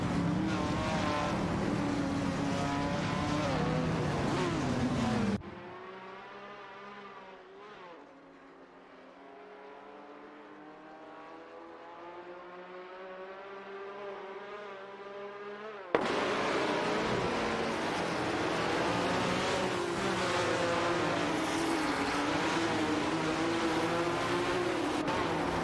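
Race cars in a video game race drone and whine continuously, loud and close at first, fading into a quieter distant stretch, then returning loud and near.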